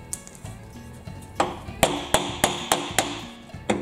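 Sharp metallic taps on a rusty John Deere riding mower steering shaft being knocked loose, about eight loud, evenly spaced strikes close by, each ringing briefly.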